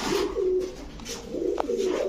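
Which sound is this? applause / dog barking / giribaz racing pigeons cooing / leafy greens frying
giribaz racing pigeons cooing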